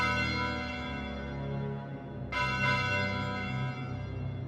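A church bell peals in the visual novel Gahkthun of the Golden Lightning, a sustained ringing tone with rich lingering overtones, then a fresh strike midway that swells the ringing again, heard alone with no voices.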